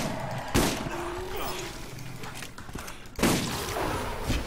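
Two loud, close shotgun blasts ring out in the Borderlands video game, one early and one later, each a sharp booming burst over busy combat noise.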